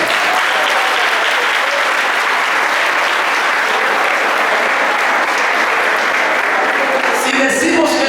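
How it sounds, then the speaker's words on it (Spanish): Loud, sustained applause from a congregation at a Spanish-language mission church service, a thick unbroken roar of clapping that holds steady throughout, with a few brief sounds standing out near the end. "Den un aplauso a Jesucristo"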